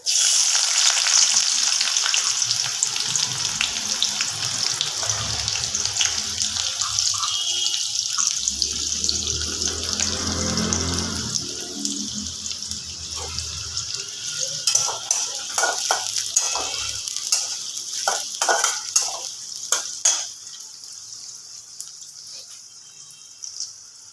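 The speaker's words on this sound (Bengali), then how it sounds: "বন্ধুরা তেলটা গরম হয়ে গেছে এখানে আমি এই যে পেঁয়াজ কুচিটা ছিল দিয়ে দেবো" Chopped onion hits hot oil in a pan with a loud, bright sizzle that fades into a softer, bubbling hiss, followed by scattered clinks and stirring clatter near the end; no voices.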